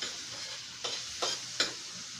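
Canned mushrooms are stirred into a sizzling pan for a Filipino-style adobo base: a steady close fry hiss with three louder scraping stirs spaced about a third of a second apart.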